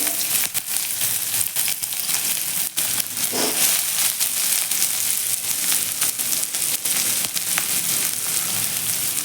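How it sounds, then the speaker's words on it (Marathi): Finely chopped onion dropped into lightly heated oil for veg masala Maggi, sizzling and crackling steadily at close range with occasional stirring clatter, no talking. "तेल आपलं हलकंसं गरम झालं की त्यामध्ये आपल्याला कांदा घालून घ्यायचा आहे"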